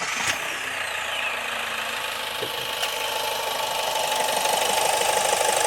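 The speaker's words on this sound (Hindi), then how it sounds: "तो ये है दोस्तों इंजन की नॉइज़" A Kia Seltos CRDI diesel engine runs at a steady idle, heard close up as a continuous hum and clatter with a couple of faint clicks.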